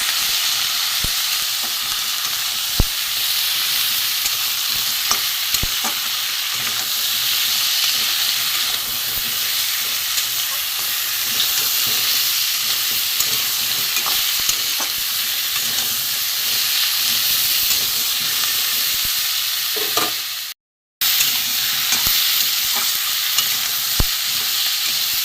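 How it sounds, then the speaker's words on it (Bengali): Bata fish frying in a pan with salt and turmeric makes a loud, continuous sizzle throughout, with occasional small clicks and a brief cut near the end. "নুন হলুদ দিয়েছি, ভালো করে ভেজে নেব।"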